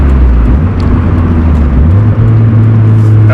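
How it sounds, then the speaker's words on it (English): A Mazda Miata engine drones loud and close from inside the car during a downshift, its low steady tone stepping up in pitch partway through. "that was a bad downshift."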